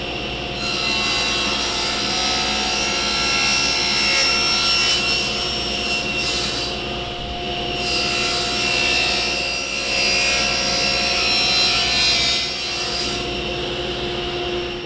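A table saw makes angled cuts in walnut legs, with a loud, continuous whining rip held close for the whole stretch and slight swells as the blade works through the hardwood.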